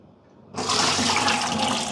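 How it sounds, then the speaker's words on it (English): Water from an espresso machine drip tray, a Bezzera Magica PID, is poured out into a sink, a sudden loud, steady gushing splash close by after a brief quiet moment. "Let me clear the drip tray."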